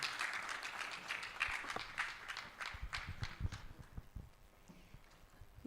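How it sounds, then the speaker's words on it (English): Audience applauding to welcome a speaker at a live-streamed session, scattered, uneven clapping with some thumping, loudest at first and then thinning out toward the end. "Please can we clap for her?"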